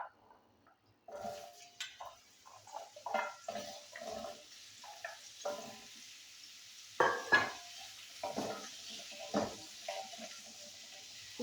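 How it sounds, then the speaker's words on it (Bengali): Pumpkin frying in oil in a pan after mixed vegetables, an uneven sizzling hiss with spattering bursts, fairly close and alone. "বন্ধুরা এই তেলে আমি কুমড়োটা ভেজে নেবো"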